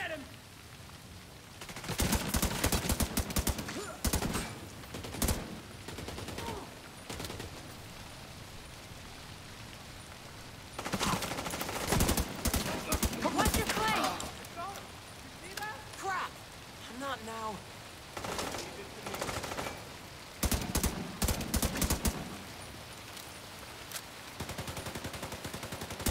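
Bursts of automatic gunfire from hostiles in a The Division 2 firefight, arriving in several dense volleys separated by quieter stretches, with shouted voices heard between the shots.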